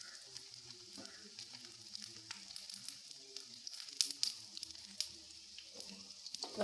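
Dough made from egg, wheat flour and maida fries in hot oil in a pan, producing a faint, crackling sizzle with scattered sharper pops, set against soft background music.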